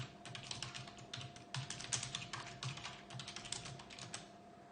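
Computer keyboard typing while JavaScript code is written, a quick, uneven run of close key clicks with short pauses and a few harder strikes over a faint steady hum, no talk.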